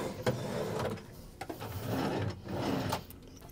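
Wooden drawers in a cruise ship cabin sliding open and shut several times, with scraping runs and soft knocks at irregular intervals, close by and fairly quiet, with no talking.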